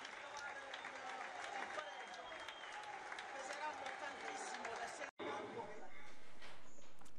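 Taranto football supporters applaud in a stadium, a soft, distant wash of clapping running throughout beneath a talking voice, with a brief dropout near the end.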